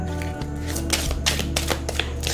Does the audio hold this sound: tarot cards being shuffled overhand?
yes